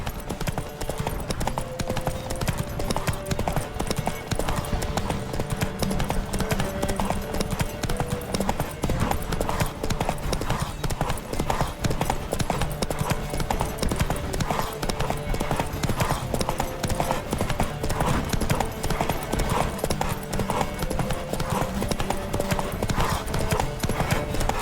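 Rapid, steady clip-clop of galloping hooves in The Witcher 3: Wild Hunt horse race, loud and continuous, with a horse whinnying and occasional shouted voices over the pounding rhythm.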